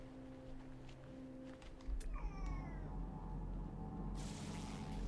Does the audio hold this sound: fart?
no